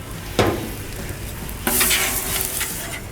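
Eggs hit hot oil on a Blackstone griddle with a sharp sizzle, a second burst of frying joining about a second later, then a steady loud crackle continuing close up.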